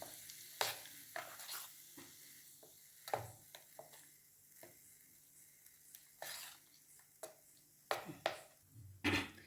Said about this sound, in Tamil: அரைச்ச சட்னியில் கொட்டிடணும் நல்லா கிண்டி விட்டுறணும்